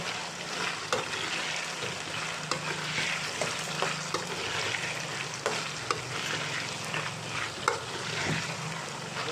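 Potatoes with salt are stirred in a sizzling pan, a steady dense frying hiss with a spatula scraping and tapping at intervals, close and fairly loud throughout without any voice.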